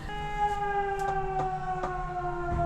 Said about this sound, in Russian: у нас даже на крыше, где мы живем, есть сирена пожарная, ее регулярно проверяют